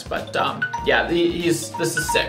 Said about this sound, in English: Sorry, that's my alarm. That means pizza's ready